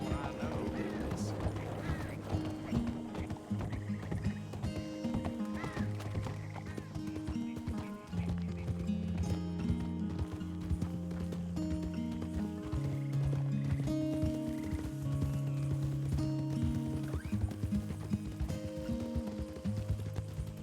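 Horse walking with steady, close hoof clip-clops and a few whinnies over a trail ride, a voice speaking in between.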